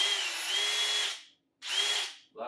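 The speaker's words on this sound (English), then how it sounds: "All right, now let's just do regular drill." Hammer drill running in regular drilling mode, two near, steady high whines of about a second each with a sharp stop between, then a brief third start.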